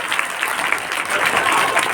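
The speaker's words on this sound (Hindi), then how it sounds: "एक बार जोरदार तालियां अपने लिए" A crowd at a school Independence Day ceremony claps loudly and continuously, a dense, even wash of many hands with no speech over it.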